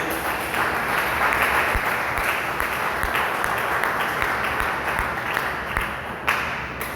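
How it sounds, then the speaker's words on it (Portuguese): A church congregation claps together in a sustained, dense burst of applause that fills the room and stays steady throughout. "dê uma salva de palmas para Jesus"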